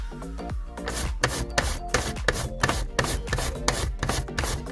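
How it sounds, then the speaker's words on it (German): Raw potatoes grated on the coarse side of a hand grater, a steady rhythmic rasping of repeated strokes, close and loud, with no talking. "Jetzt geht's gleich an die Kartoffeln, die werden geraspelt"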